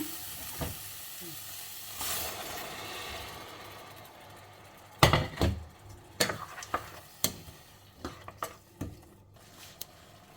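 Oil sizzles steadily in a pan as masala for chickpea sundal fries, then a run of sharp clinks and scraping knocks as the mixture is stirred, close and fairly loud.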